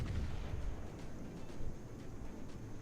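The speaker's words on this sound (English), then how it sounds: "somebody's got AA guns." Anti-aircraft guns firing in a naval video game, a dense low rumble of continuous distant bursts and pops, fairly faint and without talking.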